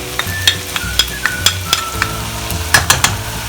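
Chicken pieces sizzle in a hot pan with paprika, black pepper and red pepper while a spoon stirs and scrapes in sharp, repeated clacks against the pan over a steady frying hiss, with no voices.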